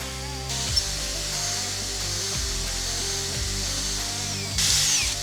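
A drill-driven hone works inside the cylinder bore of a 30-year-old Honda motorbike, a steady whirring grind with abrasive scraping, its motor pitch dropping and recovering several times, close and continuous with no talk.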